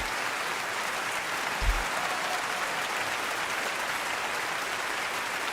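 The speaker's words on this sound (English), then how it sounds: "let's get these hand claps going again" An audience claps along in a live hip-hop show setting, a steady wash of applause with one louder thump partway through and no talk.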